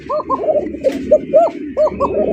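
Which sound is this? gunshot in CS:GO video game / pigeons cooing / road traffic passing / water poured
pigeons cooing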